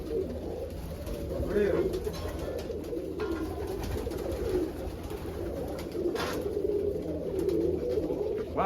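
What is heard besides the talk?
birds cooing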